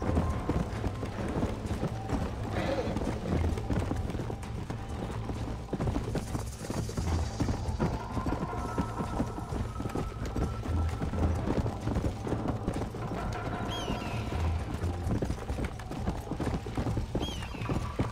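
A horse gallops in the Wild West video game Red Dead Redemption, a steady rapid clip-clop of hooves running throughout, loud and continuous over a dense background.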